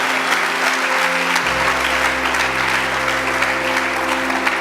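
A church congregation applauds steadily during a Spanish-language worship service, a dense, even wash of clapping with a low organ or keyboard drone sustained beneath it throughout.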